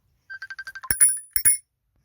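A worn-out bicycle bell on an electric bike gives a quick run of light dings and then two louder, ringing strikes, heard close and alone.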